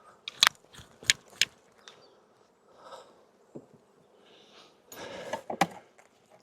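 Honey bees being brushed and shaken off a hive box by a beekeeper, heard as sharp brushing and knocking hits in bursts with faint buzzing between, close and fairly quiet.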